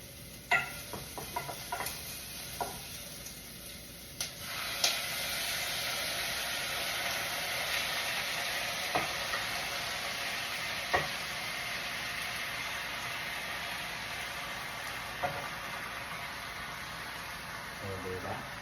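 Boneless pork hocks hit a hot pan after a few clatters, bursting into a steady, close sizzle that continues with occasional knocks while a voice talks over it.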